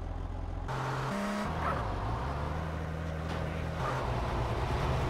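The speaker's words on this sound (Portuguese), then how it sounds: "Vou estacionar ele certinho." Car engine idling and shifting pitch as a car is parked in a large garage in GTA San Andreas Definitive Edition, a steady hum that drops and rises through a few revs, heard alone.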